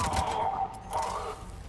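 Two bursts of muffled, echoing automatic gunfire rattle in the video game Mass Effect 3, each lasting most of a second with a brief lull between, moderately loud over game background.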